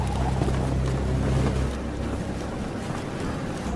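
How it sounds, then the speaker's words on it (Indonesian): Strong night wind blows in a steady broadband rush with a low droning rumble underneath, the drone dropping away partway through while the gusting continues loudly. "Hingga di malam harinya angin mulai bertiup kencang"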